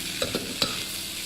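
Rice being stirred into a wok with Cantonese wine, a few soft scraping stirs over a low, quiet sizzle, close and alone.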